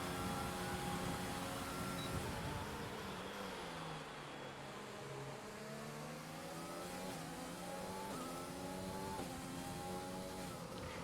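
Race car engines in a racing video game during an endurance race at a Netherlands track, rising and falling in pitch as they rev and shift, a steady droning whine that continues throughout.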